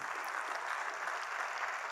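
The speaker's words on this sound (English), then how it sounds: "it deserves a big round of applause to all the acharyas" Audience at a talk on dharmic education applauding for the acharyas, a continuous even wash of many hands clapping with no voices over it.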